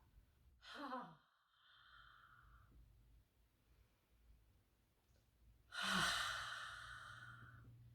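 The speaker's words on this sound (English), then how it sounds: "As you exhale, open your mouth and pretend that hand is a mirror and you're fogging up the mirror." Ujjayi yogic breathing: a soft gasping inhale, then a long, breathy open-mouth exhale like fogging a mirror, audible near and clear, with a faint hum beneath and no speech.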